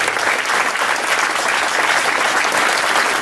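A crowd at a Podemos political rally claps steadily and loudly for a few seconds, a dense, even wash of applause with no voices standing out.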